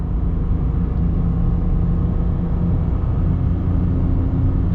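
A 2022 Mitsubishi Mirage ES pulls away at partial throttle, its small engine giving a steady, continuous low drone with a constant loud rumble and no pauses or talk.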